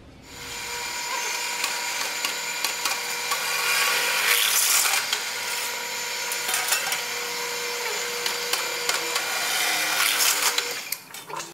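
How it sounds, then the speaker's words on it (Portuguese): Drill boring a hole through scrap material: a steady, close grinding whir with a high tonal ring that runs for about ten seconds, surging slightly midway, with no talking. "Você vai dar um furo mais ou menos"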